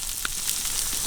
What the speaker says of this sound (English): The butter in the pan. Boom, nice generous amount of butter.